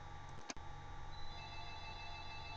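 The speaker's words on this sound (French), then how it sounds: "Le téléphone sonne, attends une minute, là" A telephone rings indoors, a steady electronic tone with a brief louder burst near the start, heard alone at moderate level.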